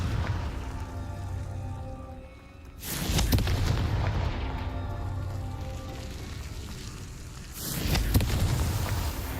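Confringo blasting spell explosions in a Harry Potter video game, two loud booming blasts with long crackling, rumbling decay, the second arriving several seconds after the first.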